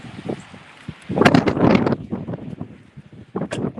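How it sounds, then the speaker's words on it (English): Gusty wind buffets the microphone in uneven bursts, with a strong rush in the middle and lighter rumbling puffs around it, outdoors and close. "But it's super windy, definitely very slick out"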